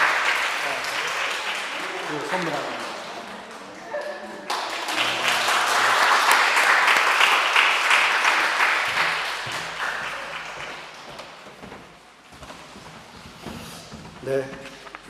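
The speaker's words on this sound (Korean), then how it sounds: "축하의 박수 한번 해주시기 바랍니다." A church congregation applauds in celebration during a Sunday service, the clapping swelling to a loud, sustained burst in the middle before tapering off, with a voice speaking briefly over it near the start.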